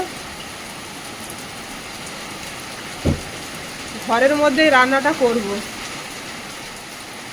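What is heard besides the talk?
heavy rain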